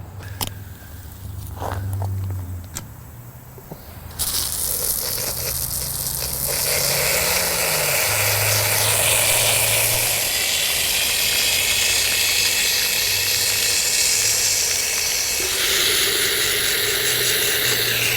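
Water sprays hard through a catalytic converter being rinsed after a sodium hydroxide cleaning, a loud continuous hiss that starts with a few knocks and then rushes steadily on to the end.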